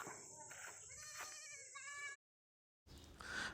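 Three goats and five young kids bleat in quick overlapping cries, loud and close, then a short silence before more bleating resumes.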